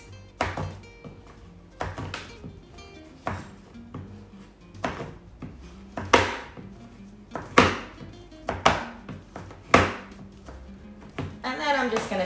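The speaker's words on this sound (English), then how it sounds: "I'm just going to take my knife and I'm going to cut strips" A knife chops down through a bar of baking chocolate on a cutting board, cutting it into strips with about a dozen sharp, uneven knocks, loud and close, with small scraping sounds between the strokes.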